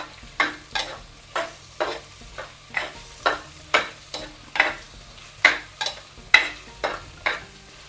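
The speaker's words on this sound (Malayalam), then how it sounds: "ഇത് വെണ്ടയ്ക്ക ഒന്ന് വഴന്ന് വരണം" Okra sautéing in a pan is stirred in steady rhythmic strokes, about fifteen close scraping swishes over a soft sizzle of oil, with no talk.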